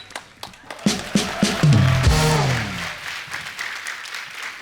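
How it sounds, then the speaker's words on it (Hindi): A studio audience at a comedy show greets arriving guests with applause: a few distinct claps build into a burst of crowd clapping and cheering, then fade into a softer, continuing patter. "सो जोरदार तालियां"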